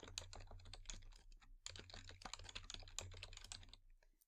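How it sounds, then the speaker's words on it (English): Keys clatter on a computer keyboard in a quick, uneven burst of close, crisp taps with a short pause partway through, over a low hum. "now I'm going to type a little something about what I'm saying"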